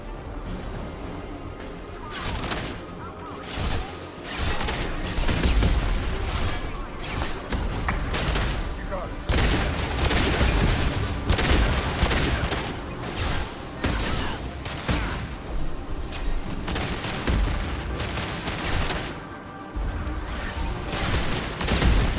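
Gunfire and combat crashes in a Mass Effect 2 battle, dense bursts of shots and impacts running loud and continuous throughout, with brief quieter gaps and faint voices mixed in.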